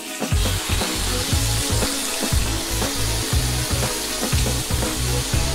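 Shrimp and squid fry in a pan with a loud, close, continuous sizzle, crackling with irregular pops and a few stirring knocks throughout.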